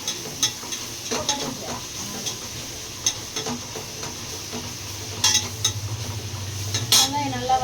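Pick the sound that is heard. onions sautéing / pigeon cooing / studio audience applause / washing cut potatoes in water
onions sautéing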